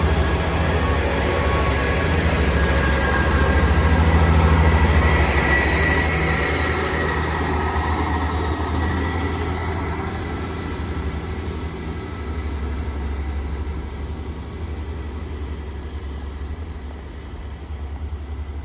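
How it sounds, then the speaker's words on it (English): A double class 158 train heading to Liverpool Lime Street passes through Widnes station, a loud broad rumble that swells near the start and slowly fades as it moves away, with no voices. "there goes that train going to Liverpool Lime Street"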